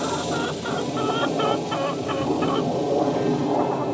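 Backyard homestead chickens cluck steadily and close by, a busy overlapping chorus of short calls repeating throughout with no talking.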